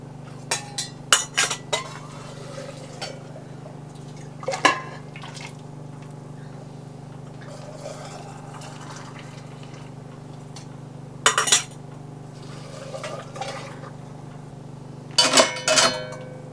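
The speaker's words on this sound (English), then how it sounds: "so I am scooping to not get all the water and to actually get the cranberries" Cranberries being scooped from a bowl of water, giving scattered wet clinks and splashy clatter in a few brief bursts against a steady background hum.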